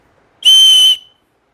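A survival whistle blown once in a single loud, shrill blast of about half a second, alone against silence.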